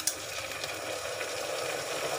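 Garlic and onion paste frying in a pan for a desi-style chana ghugni, a steady close sizzle with faint stirring scrapes over a brief initial clatter.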